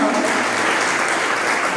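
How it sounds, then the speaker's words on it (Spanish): A church congregation gives loud, sustained applause, a dense wash of clapping that stays full and even throughout, with voices mixed in. "¿Cuántos le dan un fuerte aplauso a Jesucristo?"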